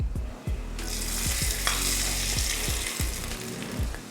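Mustard seeds, urad dal and curry leaves tempering in hot oil for a lentil chutney: a loud, close, hissing sizzle with rapid crackles and a few low knocks from the pan.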